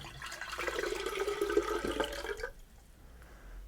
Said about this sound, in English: And I'm just going to pour that in